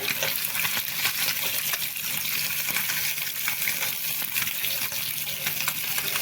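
Dense, continuous sizzling crackle of katla fish frying in hot oil, loud and close, steady throughout without speech.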